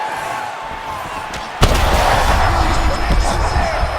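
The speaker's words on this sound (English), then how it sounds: "What a huge blow in a big moment in this fight." A heavy punch lands in a UFC 5 video game bout between Mike Tyson and Cain Velasquez, one sharp loud slam followed by a roaring crowd and commentary.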